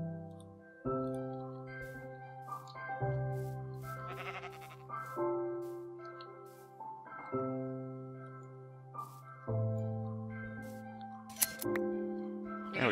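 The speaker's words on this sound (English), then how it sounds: "Before we do that, let's shear our sheep." Sheep being sheared in Minecraft, with repeated game bleats, each a wavering nasal tone, and short snipping clicks of shears between them, all clear and close over quiet music.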